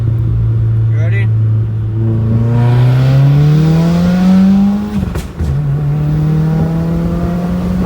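A car fitted with an AEM aftermarket charge pipe accelerates hard from low speed, its engine note climbing steadily in pitch, dipping briefly at a gear change and then pulling again, loud and close from inside the cabin.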